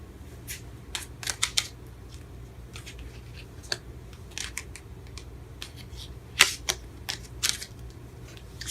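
Tarot cards being shuffled and riffled, giving a series of short, crisp papery flicks and snaps at an uneven pace over a steady low room hum, fairly close and moderately quiet, with no talking.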